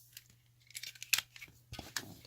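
Sharp plastic clicks and snaps from an M3D holster grip retention device being pulled apart, a handful of crisp close taps and a louder snap near the end over quiet background.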